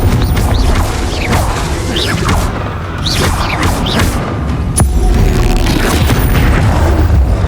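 Spell blasts in the video game Hogwarts Legacy boom and crash one after another over a dense, loud wash of combat effects and whooshes.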